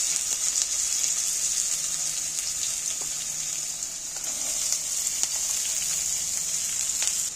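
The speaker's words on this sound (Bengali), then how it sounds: "তেল গরম হয়ে গেছে আমি পেঁয়াজগুলো তুলে দিচ্ছি তেলের মধ্যে" Chopped onions sizzle steadily in hot oil in a constant, bright hiss, with a few faint clicks of utensils and no talking.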